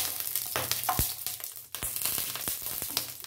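Green cardamom pods sizzling and popping in hot ghee, a close, crackling fry with sharp pops and clicks scattered through a steady hiss.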